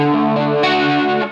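Sustained electric guitar chord through a Line 6 HX Stomp chorus effect, shimmering with slight grit, loud and close, ringing briefly before tapering off at the end.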